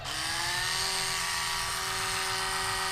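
Steady high-pitched buzzing hum of an Oral-B electric toothbrush, close and continuous without variation.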